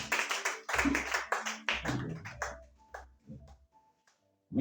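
A church congregation applauding during a French-language service, several bursts of clapping that fade out into brief quieter taps, with one more sharp clap at the end.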